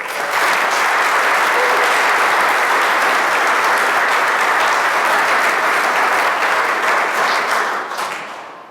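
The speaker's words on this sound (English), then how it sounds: "Please give them a round of applause." An audience applauds at a Hall of Fame induction ceremony, with dense, steady clapping from a large crowd that holds for several seconds before tapering off.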